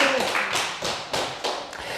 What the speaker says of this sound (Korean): 박수 박수 박수 박수 박수